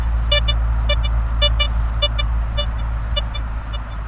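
BLISSTOOL metal detector in auto ground-balance zone, giving repeated short, sharp electronic beeps in irregular clusters over a steady low hum.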